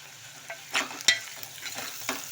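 Onions frying in a pan are stirred, giving a low, quiet sizzle punctuated by a few sharp scrapes of the spoon, close up with no talking.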